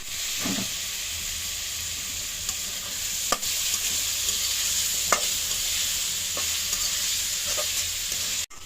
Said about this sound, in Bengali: আলুগুলো আগে ভালো করে একটু কষিয়ে নেব।